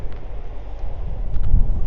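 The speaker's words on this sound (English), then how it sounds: "Oh, it's a bit windy" Steady wind buffets the microphone with a low rumbling roar, swelling slightly toward the end, no voices.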